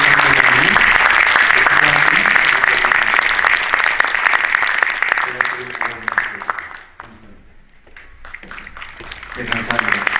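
Large audience applauding loudly and steadily at a Christian school vision proclamation ceremony in a memorial hall, sustained clapping that dips briefly and then swells again, with voices mixed in.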